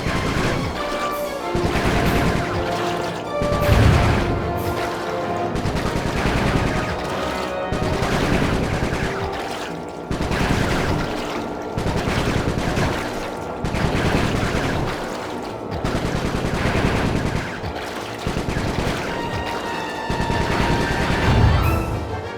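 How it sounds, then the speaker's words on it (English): Rapid bursts of video-game gunfire from Sly 3, loud and dense, with repeated volleys and booming impacts under a steady musical backdrop throughout. "Nice shooting, Bentley."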